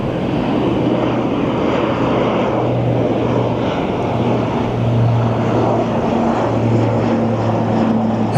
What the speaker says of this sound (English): 4795 is a 737 MAX 8 going to Milwaukee